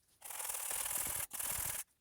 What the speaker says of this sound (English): I'm gonna use this sanding pad and make sure that everything is nice and smooth.